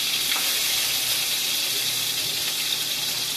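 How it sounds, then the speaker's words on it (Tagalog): Tomatoes sautéing in a hot pan for a Filipino ginisang ampalaya dish, a steady bright sizzle and hiss that fills the clip at a constant close level with no talk over it. "Ayan, igisa natin ang kamatis."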